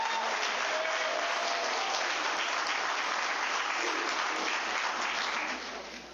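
Sustained applause from attendees at a community meeting fills the room at a steady, dense level, fading slightly at the end.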